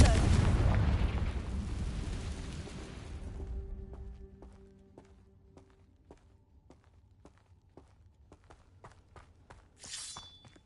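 A Confringo spell fires in a magic-themed video game, a loud booming blast that decays into a long rumbling tail, followed by a series of sharp, regular clicks and a short bright chime at the end.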